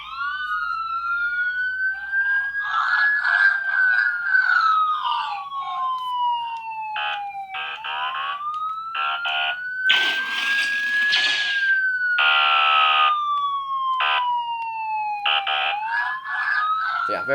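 A police-style siren sound font plays from a Neopixel lightsaber, the wail rising and falling in long sweeps, interrupted by rapid pulsing yelp bursts and a few crackling blade clashes, steady and close with no talking.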